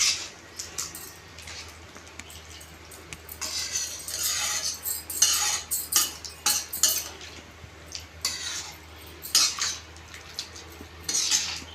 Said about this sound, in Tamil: நல்லா கிண்டிக்குவோம்.